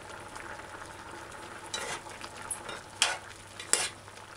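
Vegetable rundown being stirred in a pot, with a steady low simmer under soft scraping strokes and three sharper scrapes of the spoon against the pot toward the end.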